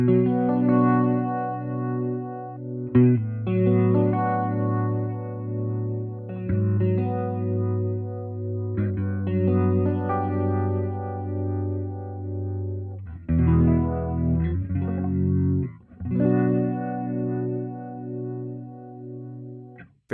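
Organ-like, tempo-synced modulation effect from a Line 6 Helix modeler, swirling over sustained guitar chords in a steady, continuous pulse with brief breaks between phrases; no talking.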